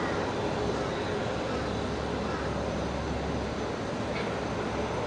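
A Qantas airliner lands on runway 01 left at Brisbane Airport, a steady, broad roar of jet engines heard from a distance that holds evenly throughout, with faint background murmur.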